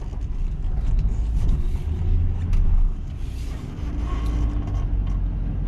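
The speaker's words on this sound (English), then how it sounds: "Idles perfectly even when it's in drive" A 2004 Chevrolet Express 2500 cargo van idles in drive, its low, steady engine rumble continuous and close with a slight swell midway and no talk.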